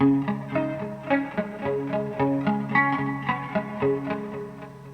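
A guitar picks the alternating-note pattern of a song, bouncing back and forth between notes in a steady rhythm, with a lightly distorted, reverberant tone.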